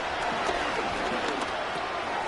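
Simulated stadium crowd noise from the Madden 25 football game, a steady dense roar of fans at moderate volume with no distinct peaks, filling the background continuously.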